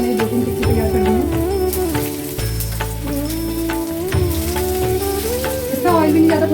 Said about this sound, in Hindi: मैं इसको डालती हूँ तवे पर सेकने के लिए